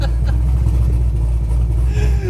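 Forged-internals car engine with sleeved block, forged pistons, rods and crank, making 1,012 wheel horsepower, held at a loud, steady rev with dense low rumble, a faint voice underneath.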